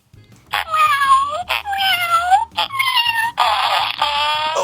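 A toy book's electronic sound effect, a synthetic cat meow meant to stand in for a cat fart, plays as a series of loud, drawn-out meows and a caterwaul, close and clear with no talk over it.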